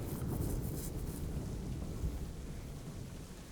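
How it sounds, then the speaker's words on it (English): Steady roar of a thunderstorm in Assassin's Creed III while sailing at sea, dense wind and rain noise rumbling continuously without any distinct breaks. "I'd say it's high time we find some cover from this storm"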